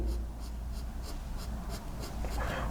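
A soft 2B pencil shading on paper while drawing lips: faint, close, steady scratchy strokes repeating in a quick rhythm.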